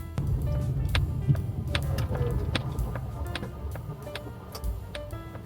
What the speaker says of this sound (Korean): 좌회전 깜빡이나 우회전 깜빡이 할 때 소리가 똑딱똑딱 들리는데